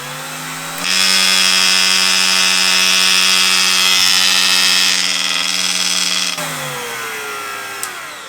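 A Parkside PGS 500 die grinder at its fourth speed runs up to a loud, steady high-pitched whine with a rough, odd buzzing edge, holds for several seconds, then drops to a lower hum.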